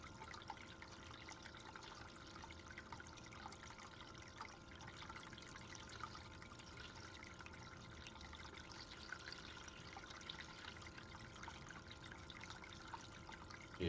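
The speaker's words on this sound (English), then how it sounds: "You guys hear the water running?" Water runs steadily from a tap indoors, a faint, continuous hiss and trickle that holds evenly throughout with no talking.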